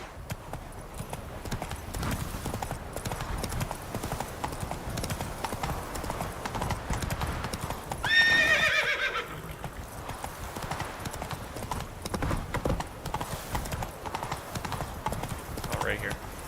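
Steady clip-clop of a horse's hooves in a video game, running as a continuous rhythmic patter throughout, with a brief whinny partway through and a voice speaking over it.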